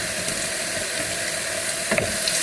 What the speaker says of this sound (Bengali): চিংড়ি মাছটাকে দিয়ে কিছুক্ষণ হালকা ভেজে নিব